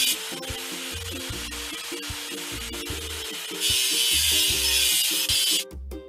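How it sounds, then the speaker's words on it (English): In a video game, rust is sanded off a machine with a continuous rough rubbing and scraping sound that grows louder partway through, over a repeating upbeat music loop. "Let's get rid of the machine's rust."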